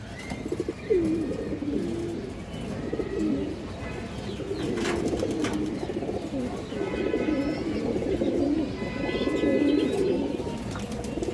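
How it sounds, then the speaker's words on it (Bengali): A large, old-lineage Bagha breed female pigeon coos in repeated low rolling calls at close range, with other birds chirping faintly nearby. "একটা বাঘা মাদি কবুতর আছে, এই যে দেখেন।"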